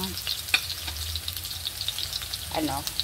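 Garlic fries in a pan with a soft, steady sizzle and scattered small pops, with a brief voice faintly in the background.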